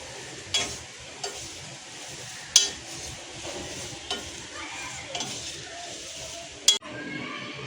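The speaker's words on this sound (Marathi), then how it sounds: "अशा पद्धतीने हलक्या हाताने आपल्याला पोहा भाजून घेऊया।" Poha (flattened rice) being dry-roasted and gently stirred in a kadai: a soft crackling rustle under scattered sharp clinks of a spatula against the pan, fairly quiet and close.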